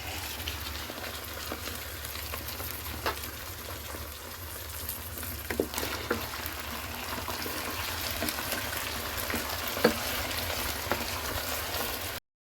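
Meat fries with golden onions in a pan for an aloo chicken dish, giving a steady, moderately quiet sizzle with scattered crackles and pops throughout.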